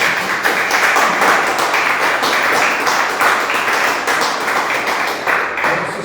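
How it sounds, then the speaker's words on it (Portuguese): A church congregation claps together after a prayer, steady dense applause filling the space at close range for several seconds with no voices over it. "Vamos aplaudir o Senhor Jesus."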